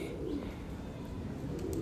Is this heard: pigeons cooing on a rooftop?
yes